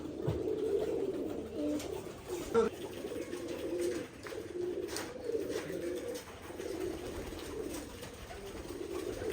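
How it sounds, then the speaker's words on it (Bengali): Indian pigeons at a pigeon farm coo in repeated low, throaty rolls close by, layered over one another, with some voices talking faintly underneath. "ইন্ডিয়ান কবুতর এখন বাজি দেখবো"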